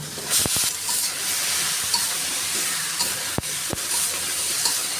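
Vegetable stems, potato and bitter gourd go into a hot pan of fried spices, producing a continuous close hiss of sizzling with a few sharp clacks of utensils on the pan.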